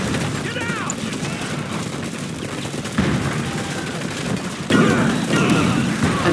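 Battle gunfire from Command & Conquer 3: Tiberium Wars rattles in dense volleys with occasional heavier booms, while unit voices call out over the fighting.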